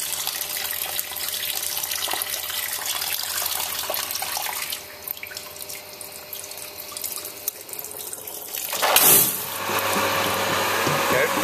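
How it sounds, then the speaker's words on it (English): A tank wash test machine takes in water, a steady hissing rush of inflow that eases partway through, then a sharp surge near the end before the flow settles again. "And take some more water in."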